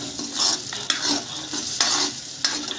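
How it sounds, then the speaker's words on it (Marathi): Ground spice paste (vatan) frying in hot oil for a spicy Khandeshi spring onion curry, a steady sizzle broken by several bursts of stirring and scraping, close and fairly loud with no talking. "गरम झालेल्या तेलामध्ये वाटण टाकून घ्यायचं"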